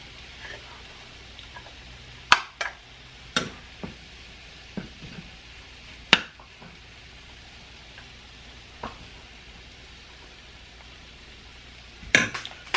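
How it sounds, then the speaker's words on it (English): Beef fried cauliflower rice with chopped eggs being stirred in a pan, a faint sizzle under sparse, irregular spatula clicks and knocks against the pan, no voices. "And then just continue to stir."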